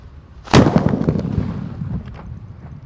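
A paper-wrapped firecracker exploding inside a watermelon: one sharp, loud bang followed by a rumbling, crackling decay and a few smaller pops.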